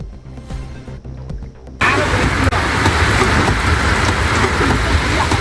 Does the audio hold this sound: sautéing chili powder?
no